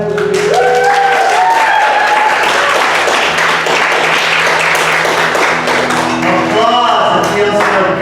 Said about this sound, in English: Applause, it feels so good.